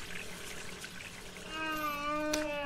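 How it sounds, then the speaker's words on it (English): A toilet being used in the survival game Sheltered, with a soft pouring, trickling water sound and a rising tonal flush near the end, heard alone without speech. "Go ahead and use the toilet."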